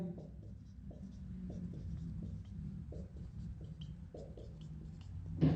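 A pen or marker scratches repeatedly across a board or paper in short strokes as numbers are written during a Rajasthan general-knowledge lesson, moderately faint and steady, with no talk over it.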